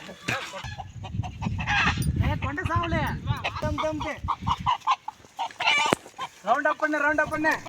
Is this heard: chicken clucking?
yes